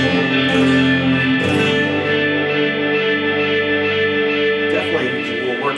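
A sustained, layered guitar tone smeared by long repeating echoes and delay trails, steady and fairly loud throughout with no talking.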